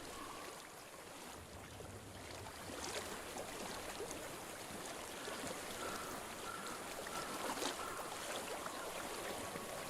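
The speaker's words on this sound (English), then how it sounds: "I hear water" Water in a stream flows in a video game, giving a steady, rushing wash with no breaks that swells slightly partway through, with no voices heard.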